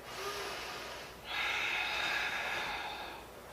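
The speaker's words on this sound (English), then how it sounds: "Take a big breath here." A deep breath held during a yoga twist, a soft airy inhale rising into a longer, louder exhale close to the mic, with no talking.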